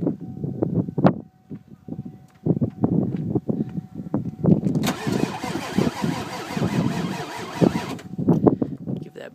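A 1995 Ford Powerstroke diesel hard-starting, the starter cranking and the engine stumbling and catching repeatedly with uneven bursts, close and loud, with a brief hiss partway through and a voice speaking in the background.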